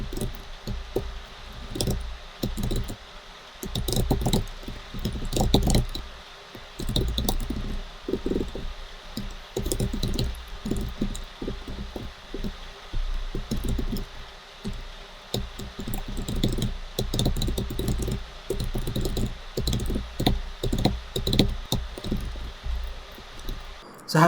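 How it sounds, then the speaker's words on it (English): Code is typed on a computer keyboard in irregular bursts of soft clacking keystrokes over a steady fan hum, with a voice talking now and then. "I'll just type it out on my own."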